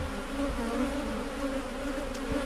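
Honeybee swarm buzzing around hives on Réunion Island, a dense, continuous drone of many bees close by, steady and fairly loud with no voices.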